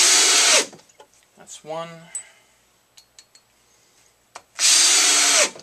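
A power drill drives a screw in two loud whirring bursts, one at the start and one near the end, with brief clicks and a voice speaking between them.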